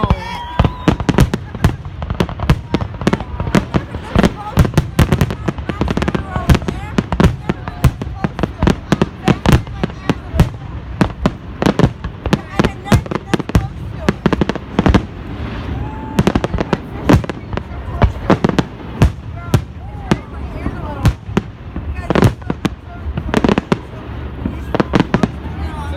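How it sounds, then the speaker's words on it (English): Fireworks at a 4th of July show, a long run of sharp explosions and crackling bursts in irregular quick succession, loud and fairly close, with people talking now and then. "You like that firework right now? How it's going down to the ground?"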